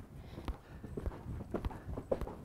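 Hooves of an off-track Thoroughbred mare cantering during schooling thud in a steady, rolling three-beat rhythm, close and fairly clear, with faint background noise and no talking.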